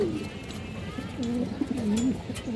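A pair of sabchila pigeons, a male and a female, coo nearby in soft, repeated wavering coos over a low background murmur.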